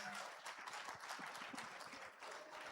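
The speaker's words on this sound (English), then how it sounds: "a big round of applause. A big hand to Manoj." Applause at a live leadership conference for a man named Manoj, a steady wash of clapping from a seated audience with some individual claps standing out, fairly quiet and distant.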